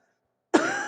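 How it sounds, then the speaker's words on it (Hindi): A single sudden, harsh cough bursts out after a moment of silence, close and fairly loud. "ये जान ले लेगा खांसी।"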